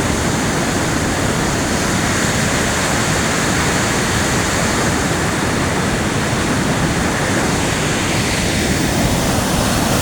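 Strong water pouring over a weir on the Pa Sak River, a loud, unbroken roar of rushing flow, dense and steady throughout.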